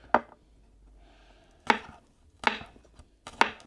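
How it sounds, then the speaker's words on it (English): A knife slices garlic into thin ribbons on a board, four crisp, close cuts spaced out over a few seconds with faint rustling between them. "I'm going to slice garlic. Little ribbons of garlic."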